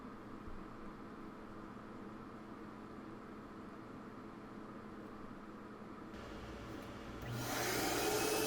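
A vacuum cleaner draws leftover toner out of a Konica MFP black developing unit, a steady low whir that swells louder in the final seconds, with no talking.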